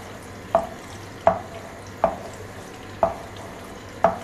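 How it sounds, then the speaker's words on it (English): A utensil taps sharply against a pan five times at an even rhythm as egg yolks are broken and three eggs are stirred, each knock crisp and close over a faint, low background. "After pouring the eggs, 3 eggs, I will break the yolk from the center like this."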